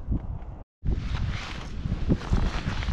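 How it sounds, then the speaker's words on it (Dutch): Strong wind buffets a microphone outdoors, making loud, low, rumbling gusts that keep going apart from one brief dropout. "het waait een beetje hard"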